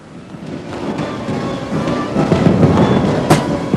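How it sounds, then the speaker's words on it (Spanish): Rockets exploding in a steady, dense roar of rumbling blasts and crackle, loud and continuous throughout, with a sharp crack near the end and no voices. "el resplandor de los faros y el estruendo de los cohetes parecieron predecir que habría problemas"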